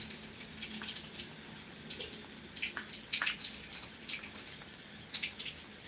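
Rain falls in Beed, a soft steady patter with scattered close drips and splats over a quiet background.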